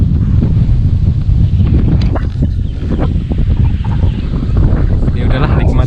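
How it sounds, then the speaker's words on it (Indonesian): Strong outdoor wind buffets the microphone in steady, heavy gusts at a rocky hilltop in Wonogiri, a continuous loud rumbling roar with faint crackles throughout. "khawatir juga ya kalau anginnya sekencang ini"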